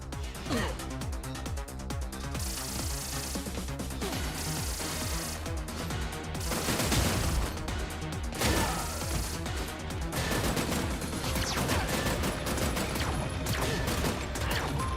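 Cannons fire repeatedly in the retro action game Terminator 2D: No Fate, a string of crashing bangs set against loud, busy game music, with a voice speaking at times.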